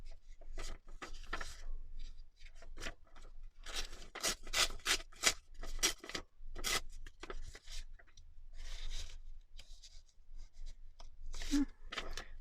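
Strips of music paper are torn by hand in a series of close, rasping rips and rustles, some quick and some drawn out, with paper handling between tears and no one talking.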